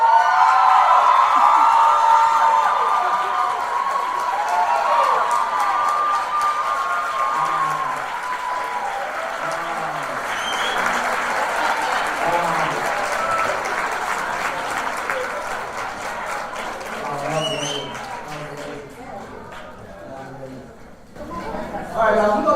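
A graduation celebration crowd claps and cheers loudly for the graduating class, sustained applause with shouts and voices mixed in, thinning toward the end as a voice speaks over the dying clapping.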